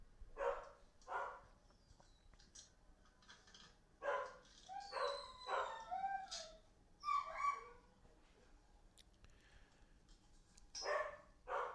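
A dog barks in short separate bursts, some single and some in quick pairs, moderately near and fairly quiet, with pauses of background hush between them during a pump pressure switch repair.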